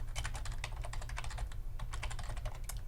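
Rapid, continuous clicking of computer keys as an email address is typed into a login form, with quick irregular keystrokes, close and fairly quiet, no voices.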